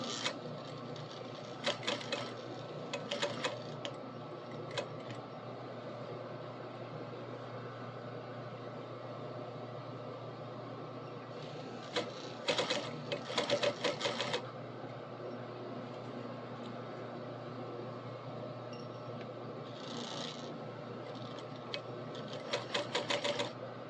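A sewing machine stitches fabric, giving a steady close mechanical hum with rapid clattering bursts that start and stop several times over the stretch.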